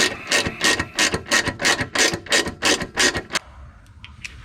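A ratchet wrench clicks in about a dozen quick, regular bursts while tightening 10 mm bolts on a brake caliper bracket of a Mazda RX-8 during a Ceika brake kit install, close and loud, then stops abruptly with no talking.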